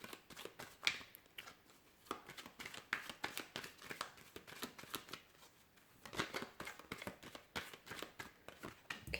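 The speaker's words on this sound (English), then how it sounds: "let's go ahead and give the cards a shuffle" A deck of tarot cards is shuffled by hand, with repeated quick riffling and sliding bursts at close range and short pauses between runs, no voices.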